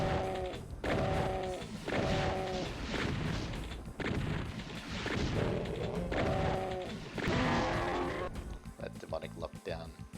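Repeated blasts from a single barrel shotgun in the game Doom, several loud booming shots spaced a second or two apart, with game noises and a voice talking over them.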